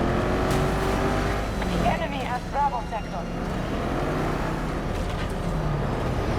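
A car drives in the video game Battlefield 2042, its engine droning steadily throughout with a brief revving swell, while someone talks over it.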